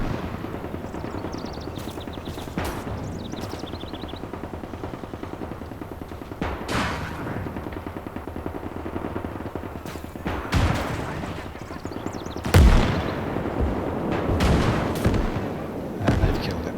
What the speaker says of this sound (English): he's getting shot by like 3 cannons, 4 cannons, all at the same time